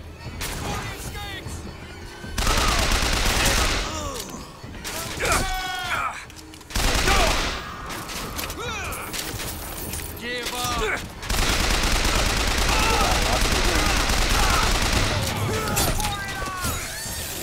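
Rapid bursts of gunfire and crashing impacts from a BioShock Infinite firefight, loud and near with sustained volleys and short pauses, mixed with shouted game voices and a player talking over the action.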